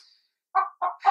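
Chickens on a homestead coop by the nest boxes, Icelandic breed, give three short close clucking calls after a brief silence.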